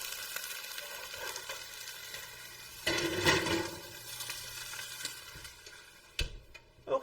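Goat cheese and cranberry stuffed chicken breasts searing in a pan, a steady hiss of frying fat with a louder burst of sizzling partway through and a few light pan knocks near the end.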